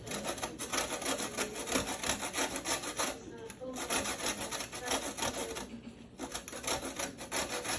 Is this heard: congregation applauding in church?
no